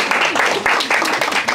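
An audience at a book launch gives a short burst of clapping, with voices heard through and over the applause.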